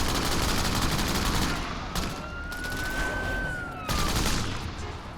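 Rapid bursts of machine gun fire in the video game Crackdown, a dense continuous rattle that fills the scene, with a rising and falling siren tone drifting through the middle.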